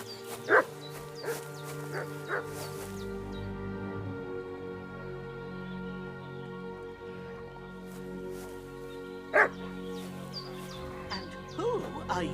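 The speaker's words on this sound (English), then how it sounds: "What's that dog making such a fuss about?" A dog barks repeatedly in a village setting in Kingdom Come Deliverance 2, a few sharp, spaced yaps and whines set against a steady ambient background, moderately near.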